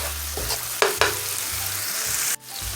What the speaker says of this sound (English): You can also add in some of your red pepper flakes. Give that a nice stir.